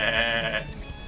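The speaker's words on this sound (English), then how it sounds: "It's a sheep! I found a sheep!" A single short sheep bleat from the video game Tak: The Great Juju Challenge, clear and fairly close, with no talking.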